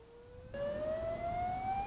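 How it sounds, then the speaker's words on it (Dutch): Siren alert sounding from a car theft alarm mobile app, a steady electronic tone that jumps up in pitch and then slowly rises, moderately loud and alone. "En dan krijgen we een sirene op de mobiele app."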